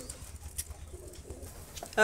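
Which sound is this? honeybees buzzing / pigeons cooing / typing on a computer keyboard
pigeons cooing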